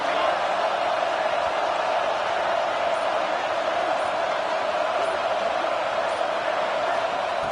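A stadium crowd at an LSU college football game roars as a dense, steady wash of noise, loud and continuous throughout with no breaks.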